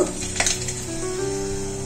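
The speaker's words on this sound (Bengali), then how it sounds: "একটা বড় এলাচ, এখানে আছে এলাচ, লবঙ্গ, দারচিনি, তেলের মধ্যে দিয়ে দেব।" Whole spices, namely bay leaf, cardamom, cloves and cinnamon, sizzle steadily in hot oil in a kadai for chicken pulao, with a brief metallic clink early on.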